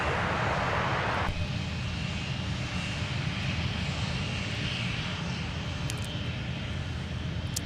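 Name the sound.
airplane engine on runway, Minneapolis airport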